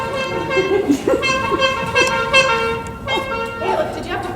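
A performer in a seniors' stage skit imitates car horns honking in traffic, giving a run of loud, sustained honks with brief gaps, amid laughter and voices.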